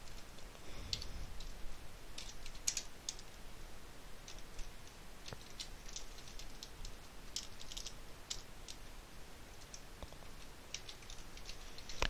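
Keys tapped on a computer keyboard while a file name is entered, a quiet run of light irregular clicks spread across the whole stretch over faint background hiss, with no voices.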